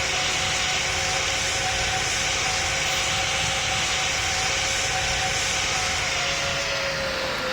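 Inside an airplane cabin on a short flight from Tokyo, a loud, steady engine roar with a whining tone fills the landing and rollout on the runway, with no voices.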